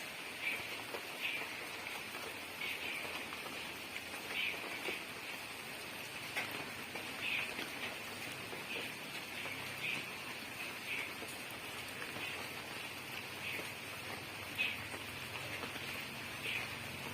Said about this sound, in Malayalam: മഴ കൂടുവാണ്.